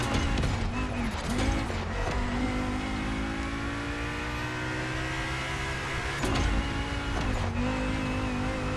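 Audi Sport Quattro S1 Pikes Peak rally car engine in a racing video game, heard from the cockpit view: a steady, loud engine drone with rising revs and brief gear-change dips, with no talk over it.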